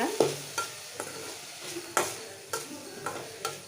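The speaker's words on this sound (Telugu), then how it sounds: "ఇలా ఇవి కూడా కొంచెంసేపు ఫ్రై చేసుకున్న తర్వాత ఇందులో క్యాప్సికమ్ అయితే వేసుకుంటున్నాను" Vegetables fry in a pan before capsicum goes in, a steady sizzle broken by about eight rhythmic spatula scrapes and taps against the pan, close and clear.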